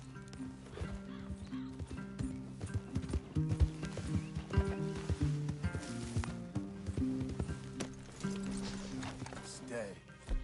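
Horse hooves clip-clop and a neigh rise from a Red Dead Redemption 2 scene, the steady hoofbeats close and fairly loud, mixed with game music and voices talking throughout.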